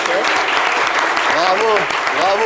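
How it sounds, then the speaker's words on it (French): Audience applause on a French talk show, dense steady clapping throughout with voices talking over it. "Il faut l'applaudir bien fort"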